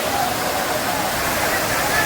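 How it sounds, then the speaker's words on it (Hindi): Water overflowing from Bhushi Dam during heavy monsoon rain makes a steady, dense roar like a waterfall, continuous and close. "देखो ये ओवरफ्लो होता है, उसके बाद इसमें से पानी यहाँ से निकलता है"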